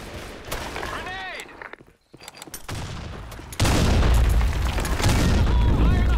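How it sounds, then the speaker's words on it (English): A grenade blast in the shooter game Blackshot lands as loud booming bursts amid rapid gunfire, with a sharp heavy impact midway followed by sustained dense firing and explosions, voices calling out over the din. "Grenade. Fire in the hole."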